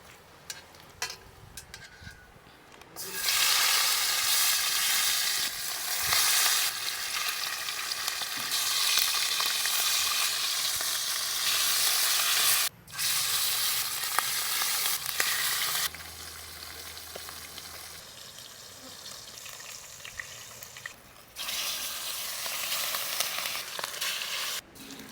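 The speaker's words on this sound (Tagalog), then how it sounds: "Unahin ko munang i-fry itong mga saging na saba." Saba bananas frying in hot oil give a loud, steady crackling sizzle that runs for long stretches, with a few brief pauses and small clinks in between.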